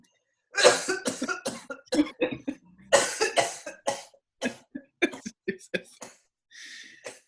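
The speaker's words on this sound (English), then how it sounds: "I heard you coughing." A series of harsh coughs in quick bursts, close and loud, with brief pauses between fits and a softer throat sound at the end.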